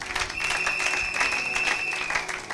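A church congregation applauds during a sermon, a short, dense burst of clapping from many hands that stays steady for a couple of seconds.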